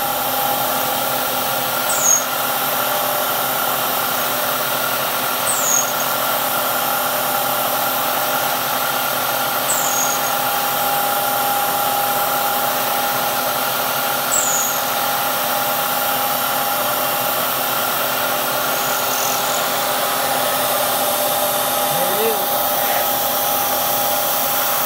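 A steady, droning CNC mill hum runs throughout a drilling cycle with a face mill, with faint short chirps recurring every few seconds and a brief high tone midway.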